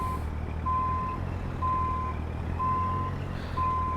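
Repeated backup beeps of a semi truck reversing with a small trailer in a trucking simulator, evenly spaced tones sounding over a low steady engine rumble.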